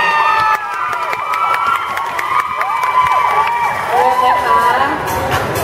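A crowd at a temple grand-opening mini concert cheers, shouts and claps loudly and continuously, with voices calling out over the sustained noise.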